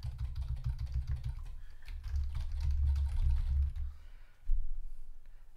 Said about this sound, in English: I just have to type stuff on the keyboard